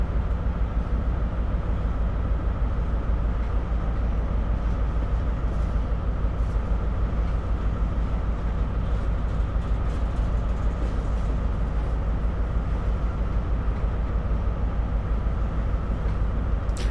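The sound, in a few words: train gearing down and stopping, Train Sim World 5 video game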